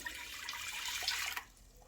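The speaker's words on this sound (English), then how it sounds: "To this I'm going to add the water." Water poured into freshly squeezed lemon juice for elderflower and lemon sorbet, a soft splashing pour lasting over a second before cutting off.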